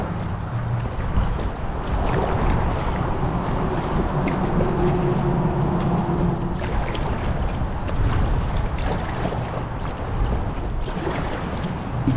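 Wind gusting under a river bridge while paddling a packraft and inflatable kayak on the River Ure, a loud, continuous broadband roar and buffeting filling the whole stretch with no voices.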